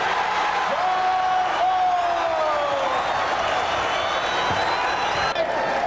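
A large arena crowd at the Pontiac Silverdome roars during a 1982 Pistons versus Rockets NBA game, a sustained dense wash of cheering with whistles and whoops, steady and loud, with commentators talking over it.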